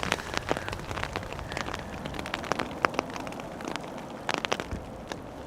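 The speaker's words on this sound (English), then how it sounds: "the downside of there being hardly any wind is that when it's raining it doesn't move away that quickly" Steady rain pattering on surfaces at Amsterdam Schiphol Airport in near-windless weather, with dense irregular drips and sharper taps over a constant hiss, no voices.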